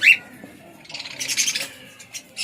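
Cockatiels, including pied and whiteface varieties, give a sharp high call at the start, followed by a scatter of softer chirps and squawks from an aviary. The calls are moderately close, with a faint murmur of background noise between them.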